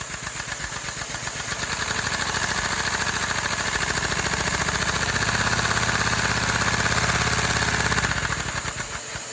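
A small homemade overhead valve vacuum engine runs steadily for about nine seconds, a loud, even mechanical chatter with a rapid repetitive beat and a persistent high whine, heard close up with no voices.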